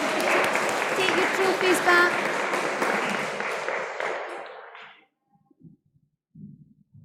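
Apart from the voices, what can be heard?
audience applause at school prizegiving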